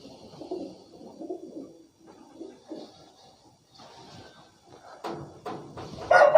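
Teddy pigeons kept by a pigeon fancier coo in low, soft murmuring phrases, close by, with a few quieter gaps and a louder burst of noise near the end.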